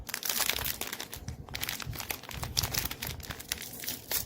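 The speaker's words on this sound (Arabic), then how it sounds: "نفتح رابع كيس ونقول بسم الله" A plastic biscuit packet crinkles and tears as it is pulled open, a continuous close crackling that runs unbroken and fairly loud throughout.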